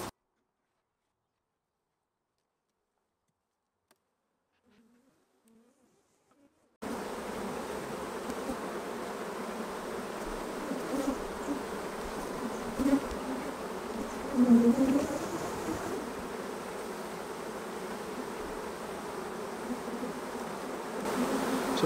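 Honeybees buzzing steadily around an opened hive during a beekeeping inspection, a dense continuous insect drone that starts suddenly after several seconds of silence and stays close and fairly loud throughout.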